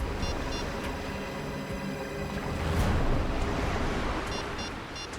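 Sea waves wash in a steady, broad surge at the shore where boats are moored, swelling briefly louder near the middle, with no voices.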